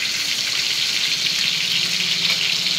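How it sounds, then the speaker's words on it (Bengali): Fish curry cooking in a large pot in a canteen kitchen in West Bengal, a steady hiss of frying with a watery bubbling undertone, continuous and fairly close, with no voices. "এখন হচ্ছে মাছ তরকারি রান্না হচ্ছে"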